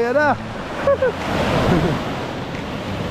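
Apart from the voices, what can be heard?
big sea waves during typhoon Jenny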